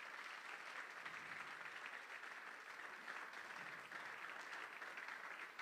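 A congregation standing in church applauds with steady, sustained clapping, faint and distant, holding an even level from start to finish.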